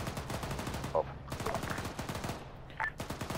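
Rapid machine gun fire in the military shooter game Arma 3, dense fast bursts of shots close and loud, with brief radio-style voice fragments over the gunfire.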